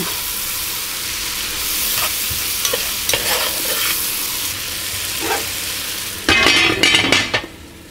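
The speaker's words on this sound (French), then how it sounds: "on va se trouver comme déglacer notre chaudron" Raccoon jambalaya being deglazed and stirred in a pot after frying onions, a loud close sizzle with repeated scraping stirs and a burst of hissing and clatter near the end, no talk.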